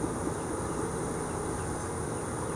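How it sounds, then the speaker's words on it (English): Honey bees swarm around a hive box freshly topped with a honey-filled super, producing a steady, close, unbroken drone of buzzing that never lets up. "So these bees are super active."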